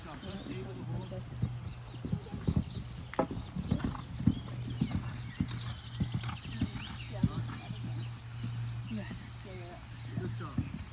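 Horse hooves clip-clop in an irregular rhythm as a rider works a new jumping horse in Germany, a close sequence of dull thuds heard under a trainer's coaching voice, with a faint steady hum behind.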